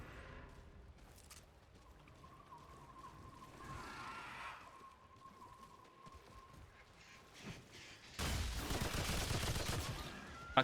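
Sustained burst of machine gun fire from a player's weapon in the video game Remnant 2, loud and dense, following quieter game ambience and scattered shots.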